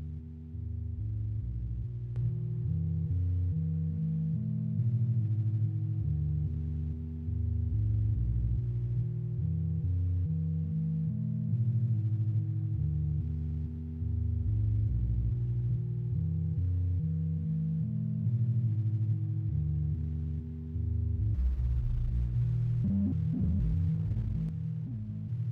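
Dreadbox Whiteline Eurorack modules drone under modulation, a low harmonic tone pulsing and shifting steadily for many seconds before a brighter, noisier burst near the end.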